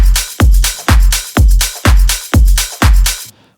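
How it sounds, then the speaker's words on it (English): A tech house drum loop from a Splice sample pack, with punchy booming kicks on a steady four-on-the-floor pulse under bright, busy top-end percussion, loud and dry, ending abruptly. "It sounds something like this, right? You have all the top end and all the percussions going on,"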